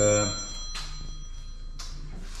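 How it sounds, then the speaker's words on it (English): A phone rings briefly with a bright electronic tone, followed by a couple of soft clunks and rustling handling noises nearby, during welding repairs on a rusty Renault 5 GT Turbo. "someone's ringing me."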